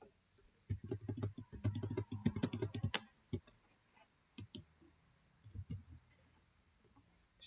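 Close computer keyboard typing while numbers are entered into a budget form, a quick burst of clicky keystrokes followed by a few scattered single taps after a pause.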